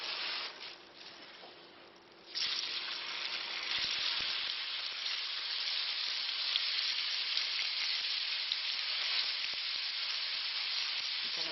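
About 500 grams of ground beef mince sizzles in a pan with a little oil. After a short quieter start, a loud, dense, steady crackle and hiss begins and holds without a break.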